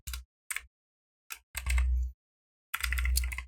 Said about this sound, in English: It's a very hard word to type when you type fast.